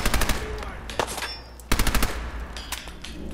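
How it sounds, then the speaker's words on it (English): Tommy gun fire in Fallout 4: rapid automatic bursts of gunshots in several fast volleys, loud and close, with a short pause between bursts. "Oh, this is my new favorite gun. Tommy rifle."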